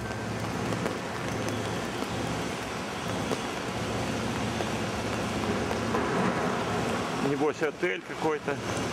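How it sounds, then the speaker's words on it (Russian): Rain falls at Hakone-Yumoto station in Japan, heard from under the station canopy as a steady, dense wash of noise across the whole clip, with a few brief louder bursts near the end. "Идет дождь из-под навеса станционного."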